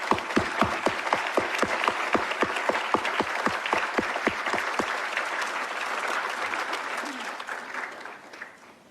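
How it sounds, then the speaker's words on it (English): Sustained applause from a large crowd at a college graduation ceremony, dense clapping that fades out toward the end, heard from within the audience. "Let's all give the graduates' parents, family, and support group a round of applause."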